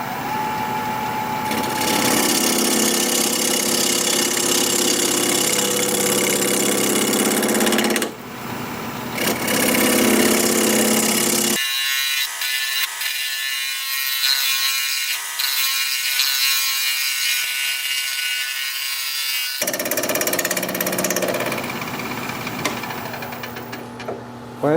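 A 5/8 bowl gouge cuts olive wood on a lathe, giving a loud, steady scraping hiss that breaks off briefly twice, with a quieter stretch of lighter tool contact in the middle.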